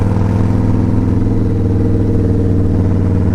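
Kingpin motorcycle engine riding through town, a steady, loud, close throbbing rumble at an even pace, alone with no talk.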